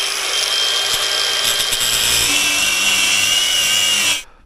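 Power tool cutting through a stuck bolt on a pump during an MTDi pump build, a loud continuous high grinding whine holding steady for about four seconds before cutting off abruptly.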